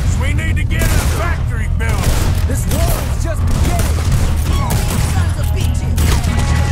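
Dense, continuous gunfire from a shootout in the video game Red Dead Redemption 2, loud rapid shots and booms overlapping throughout with no break.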